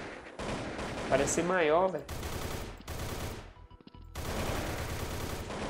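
AK-47 gunfire in the shooter game Blood Strike: several loud, sharp bursts of automatic shots spread through the stretch, with someone talking over part of it.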